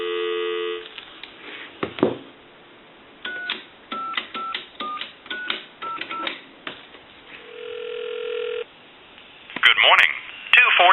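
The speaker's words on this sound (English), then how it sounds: "I want to give you some dial tone." A payphone produces a steady dial tone, then a series of short touch-tone beeps as a time-and-temperature line is dialed, followed by ringback and a burst of recorded voice on a thin, narrow telephone line.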